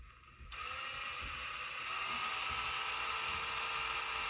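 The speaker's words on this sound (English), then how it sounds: "We're going to drill this out." A power drill bores into the leg of a vintage Panosh Place Voltron plastic action figure, whining steadily from a half-second start and holding a continuous high-pitched grind close up.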